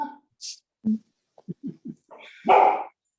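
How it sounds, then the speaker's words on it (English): A dog barks in short bursts, several sharp yips and woofs spaced irregularly, ending in a louder, longer bark; fairly close. "What are you barking for?"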